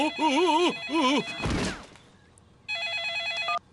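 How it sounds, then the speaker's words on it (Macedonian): A mobile phone in a cartoon rings with a warbling electronic tone in two bursts, followed by a brief crash and then a higher beeping ring pattern, clear and fairly close. "Звони мобилниот телефон на тато прасе."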